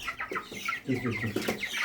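Broiler chickens cluck repeatedly while being weighed, several close, busy clucks overlapping across a couple of seconds with no talk.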